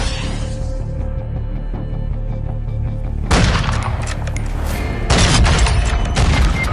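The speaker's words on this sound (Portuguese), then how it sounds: "Ah, ele me matou na granada." Two heavy grenade blasts go off in a video game shootout, each a loud, broad burst over a steady, rumbling game soundscape. The first bursts midway and the second follows a couple of seconds later, with crackling debris trailing both.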